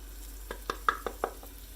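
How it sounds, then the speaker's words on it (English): Minced garlic sizzling in a pan while cooking a tomato sauce, a soft steady frying hiss with a few faint clicks and stirring taps, quiet and close with no talk. "You're going to add the minced garlic, and you're going to cook it for exactly 1 minute."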